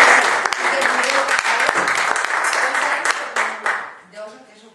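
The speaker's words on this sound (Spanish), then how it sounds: "Un aplaudiment, no?" Applause welcoming a new woman president at a meeting of the Consell Econòmic i Social in Benetússer, many hands clapping steadily and close, with voices mixed in, fading out near the end.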